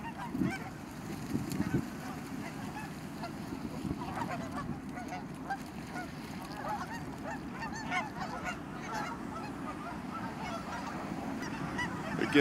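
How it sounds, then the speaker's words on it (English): Geese honk repeatedly nearby, their calls overlapping in a busy, continuous chorus over a steady background. "I've always liked geese."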